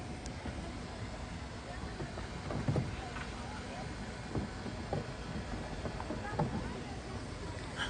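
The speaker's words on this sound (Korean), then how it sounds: "지금 보트 타고 있어요" Riding in a boat on water, with a constant rushing wash of hull and engine noise and occasional splashy bumps, plus faint voices in the background.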